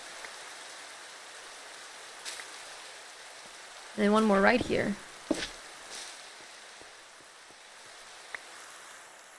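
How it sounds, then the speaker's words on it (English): Rain falls steadily as a soft, even hiss throughout. A person briefly speaks over it partway through. "The sound of rain, it's so pretty."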